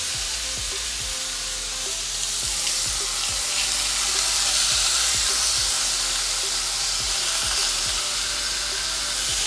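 Steaks fry in a hot pan beside a pot of boiling ramen noodles, giving a loud, dense, continuous sizzle with steady crackle and no talking.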